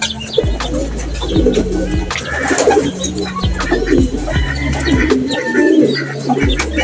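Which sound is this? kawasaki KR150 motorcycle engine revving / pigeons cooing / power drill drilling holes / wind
pigeons cooing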